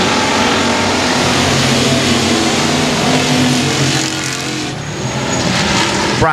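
Race cars roar around Sabine Speedway in a dense, loud, continuous engine drone with a slight dip in intensity toward the end, no talking audible.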